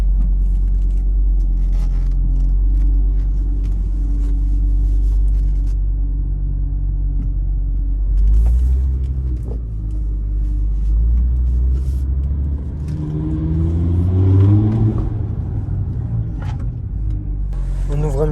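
Audi RS3 in dynamic mode, engine rumbling low and steady while driving, then swelling into a rising rev near the end; a person talks over it at times.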